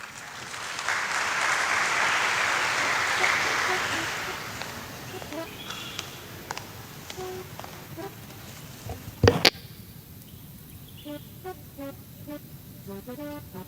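Congregation applauding inside a church during Sunday Mass, broad dense clapping that swells and then fades out, leaving quieter room noise with a few isolated knocks and brief tonal sounds.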